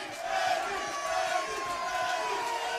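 A crowd at a Cage Rage cage fight roars and cheers continuously, a dense, loud wall of voices with shouts and whoops rising over it.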